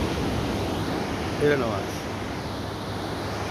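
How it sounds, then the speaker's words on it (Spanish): Ocean waves wash onto the shore in a steady, loud broadband rush with a slight swell midway, while a person speaks briefly over the surf. "Qué relajante es el ruido del agua"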